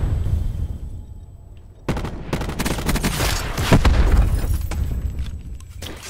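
A quiet lull breaks into loud, rapid gunfire mixed with explosive booms in a Black Ops 4 beta match, sharp bursts continuing densely to the end.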